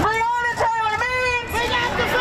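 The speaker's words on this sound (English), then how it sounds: "A big crowd tonight in downtown Lexington after a long-awaited decision." A protest crowd gathered at night in downtown Lexington, chanting loudly in unison, with voices sustained and rising together close by.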